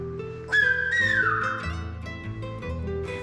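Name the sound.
word papa whistled in Silbo Gomero language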